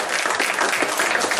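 A studio audience at a French televised quiz game claps in a dense, steady burst of applause, brief and close.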